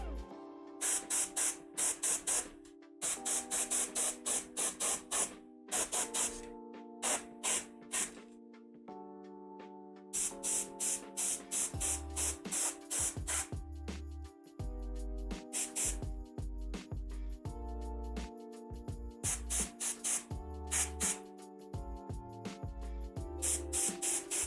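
An airbrush spray-paints a miniature in short hissing bursts, some quick and repeated, others held longer, separated by brief silences, fairly close and with no talk.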